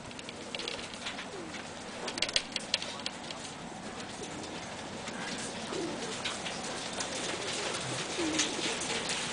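Pigeons coo softly inside a coop, a steady low murmur of calls with occasional flutters and shuffling throughout, fairly close and moderate in level.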